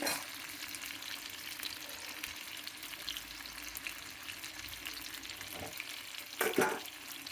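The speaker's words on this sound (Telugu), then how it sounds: "ఉల్లి వేగుతుంది, ఇలా వేగాలన్నమాట బాగా" Onions fry in a small amount of oil with fenugreek seeds and cumin, a soft steady sizzle throughout, with a couple of brief scraping stirs near the end.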